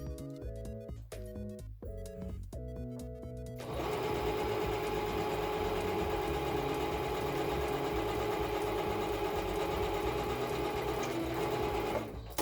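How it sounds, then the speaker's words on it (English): A sewing machine stitches two skirt fabric pieces together, starting with a few short stop-start bursts and then running steadily at a loud, even hum for several seconds. "now I have to sew them together"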